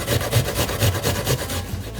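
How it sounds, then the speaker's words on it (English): An onion rubbed against a kitchen grater gives a continuous series of quick, rhythmic rasping strokes, loud and close, with no talking. "So just get as much of the onion grated as you can"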